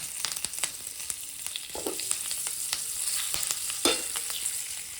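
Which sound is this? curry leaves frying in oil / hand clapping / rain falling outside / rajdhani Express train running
curry leaves frying in oil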